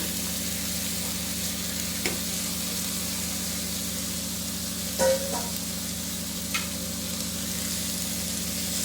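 Shredded cabbage for a cabbage and peas curry stir-fries in a pan, a soft continuous sizzle with a few scraping stirs and one brief louder clatter around the middle, no voices.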